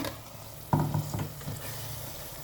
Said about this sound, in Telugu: నేను మసాలా నూరున్నాను కదా, ఆ మసాలా వేసుకుంటున్నాను